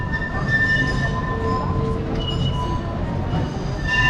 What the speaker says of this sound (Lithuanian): Čia kaip tramvajus, ne funikulierius.